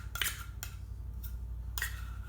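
A spoon scrapes sticky sun butter from a pan in a few short, close metallic strokes and clinks, with quiet pauses between them and a low steady hum underneath.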